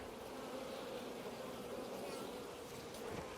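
A dense, continuous buzzing of honeybees swarming close around an open hive while queen cells are handled, steady and fairly loud throughout with no talking.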